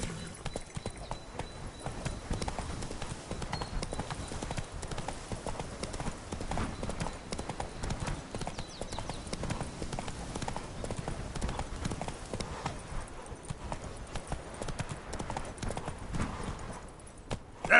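Video game horse Roach galloping on PS4 Pro: a steady, fast clip-clop of hooves that runs unbroken and fairly loud the whole way, with a brief neigh-like tone possible near the end.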